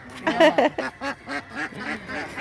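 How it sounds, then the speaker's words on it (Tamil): Domestic native ducks quack loudly in a rapid, rhythmic series close by, the calls bunching together then spacing out. "எல்லாம் நாட்டு வாத்துகள்"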